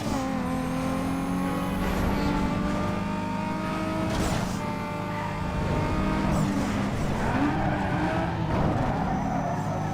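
Need for Speed Underground cars race with continuous loud engine roar, revving and shifting, and tire skids throughout, with no talking.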